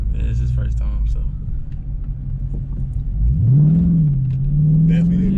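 A 2020 Dodge Scat Pack's engine rumbles low, then surges into a loud rising rev as the car accelerates, with voices talking over it inside the cabin.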